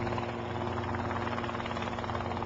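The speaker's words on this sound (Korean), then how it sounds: "잣나무가 빼곡히 들어선 숲속에서 헬기 한 대가 모습을 드러냅니다." A helicopter hovers above a dense pine forest during a pine nut harvest, its rotor and engine drone steady and continuous at a moderate distance.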